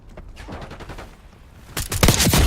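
Video game gunfire, with a scattered patter of rapid shots that swells into a dense, louder volley of overlapping bursts near the end.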